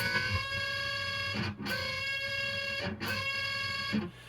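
Sustained distorted electric guitar notes, two strings ringing together and bent up in pitch, repeated a few times with brief breaks between phrases.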